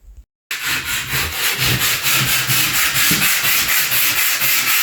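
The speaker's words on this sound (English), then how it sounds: "And yet I was still sanding." Wood being sanded during an office renovation, a loud continuous rhythmic rasp of repeated strokes that starts after a brief pause and runs steadily to the end.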